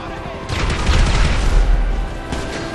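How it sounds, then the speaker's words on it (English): A car blows up in the GTA 5 video game, with a burst of booming blasts and crackling debris over a steady background rumble, loudest near the middle. "I'm trying to blow up my own car."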